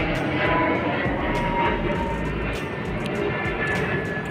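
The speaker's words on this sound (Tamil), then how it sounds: "இங்கே பாருங்க ஃப்ளைட்டு." An airplane passes overhead outdoors in Tamil Nadu, a broad low roar that swells and fades across the clip over steady background noise.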